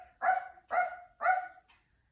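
A person's voice imitates a dog barking during a children's yoga session, three evenly spaced, loud, close 'ruff' barks followed by a faint short trailing sound.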